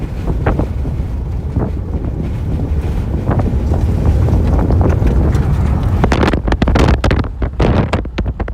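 Hail pelts a vehicle during a Montana supercell storm, a loud, dense battering roar over strong wind buffeting the microphone, with sharper rapid hailstone impacts clattering toward the end.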